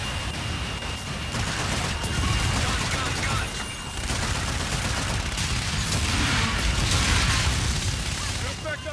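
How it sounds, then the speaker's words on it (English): An aircraft gun run in the sci-fi shooter Call of Duty: Infinite Warfare, a dense unbroken roar of rapid cannon fire and booming impacts that lasts the whole stretch, loud and close. "Roger. Inbound for gun run."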